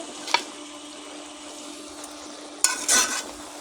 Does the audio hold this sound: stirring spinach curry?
yes